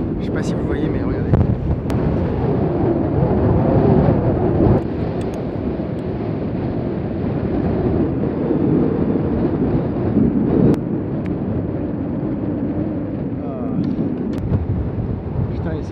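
A strong headwind buffets the microphone on the Royal St George's golf course, a constant loud roaring rush with gusty swells, while someone talks underneath.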